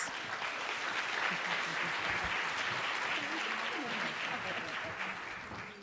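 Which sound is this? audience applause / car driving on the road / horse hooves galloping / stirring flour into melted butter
audience applause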